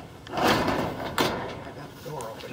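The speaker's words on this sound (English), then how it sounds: "I got the door open now." A door being opened on a rented storage unit at a storage auction, with a couple of broad rattling, scraping bursts from the metal door and someone talking over the noise nearby.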